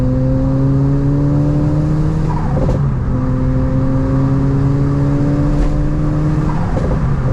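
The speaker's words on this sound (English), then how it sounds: "We've also got a Turbo Smart flutter valve on there, which makes great noises." A truck engine revs up and settles twice, with brief whooshing chirps from a Turbosmart turbo flutter valve as the revs drop, loud and close throughout.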